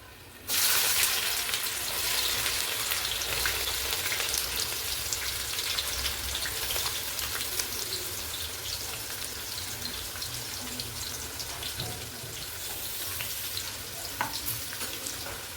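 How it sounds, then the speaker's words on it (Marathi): Finely chopped onion hits hot oil with green chilies for chicken biryani, bursting into a loud, dense sizzle that stays continuous and close, easing off only slightly over time. "आता हा चिरलेला बारीक कांदा आहे तो तेलामध्ये फोडणीला टाकूयात"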